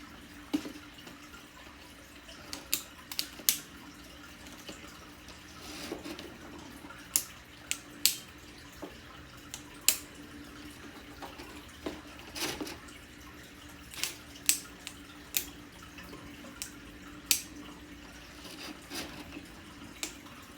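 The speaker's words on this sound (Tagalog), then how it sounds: "Ikot-ikot lang yung tubig na yan." Aquarium water circulates quietly during cleaning, a soft steady trickle broken by scattered sharp drips and splashes at irregular intervals, close and fairly faint with no talking.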